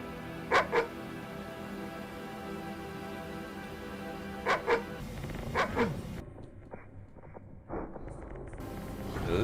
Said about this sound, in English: The little doggy needs to be alive to get the best ending.